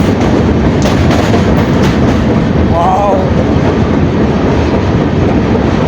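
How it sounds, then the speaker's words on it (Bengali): A train in India rumbles past close by in a loud, continuous roar of wheels on rails with rhythmic clatter and a brief faint squeal partway through. "কত সুন্দর ট্রেন যাচ্ছে"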